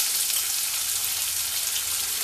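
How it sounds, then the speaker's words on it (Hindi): Cumin seeds sizzle in about four tablespoons of hot oil, making a loud, even hiss that runs without a break for two seconds. "उसके अंदर अभी हम 1 teaspoon जीरा डाल देंगे"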